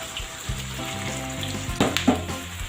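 Potatoes go into a frying pan with plenty of hot oil, setting off a steady close sizzle that swells into sharper crackling bursts as the pieces land.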